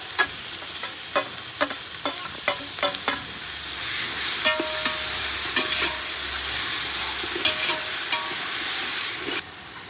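Tomato, curd, green chilli and biryani masala frying with onions in a large pot for a 2 kg chicken dum biryani, heard as a loud, steady sizzle with a run of sharp stirring scrapes near the start.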